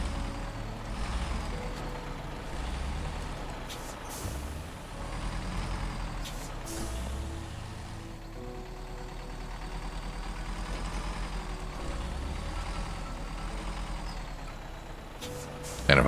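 A big heavy truck rumbles along in an off-road driving game, with a steady low engine drone, an air-brake hiss, and a faint reversing beep running under it. A near, continuous, moderately loud rumble with occasional clunks.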